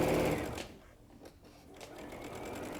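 A sewing machine stitches fabric for a patriotic placemat, its steady rapid whirring loud and close at first, easing off briefly in the middle, then running on again.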